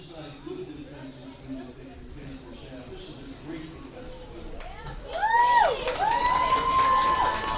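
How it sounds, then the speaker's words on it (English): A small crowd of about 25 or 30 people at a semi-pro football game between the Pioneer Valley Knights and CT Panthers cheers for the defense, a distant murmur that swells into louder shouting and whistles near the end, with talk over it. "you hear the crowd getting behind the defense"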